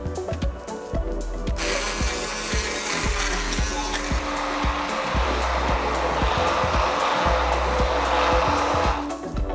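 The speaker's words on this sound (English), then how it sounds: "use our mortar and puree this in order to form a nice smooth gravy" Loud, steady motor whir as a blender purees tomatoes and sautéed onions into smooth gravy, starting abruptly and running continuously with rhythmic knocking beneath and no talking.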